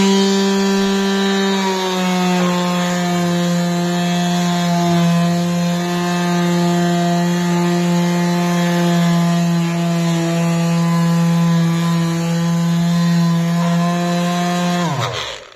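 A Black and Decker Mouse detail sander works on a painted surface, its strong steady motor buzz humming loudly and evenly for about fifteen seconds before winding down abruptly at the end.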